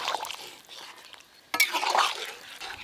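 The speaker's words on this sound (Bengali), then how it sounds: "এবার যে মশলাটা বাটা ছিল একটু জল দিয়ে ভালো করে মিশিয়ে নিয়েছি, দিয়ে দেবো এবার বাটা মশলা" Ground spice paste mixed with water is poured into boiling goat meat curry, first a soft bubbling and stirring, then a sudden wet splash and louder sizzling churn midway, close and without talk.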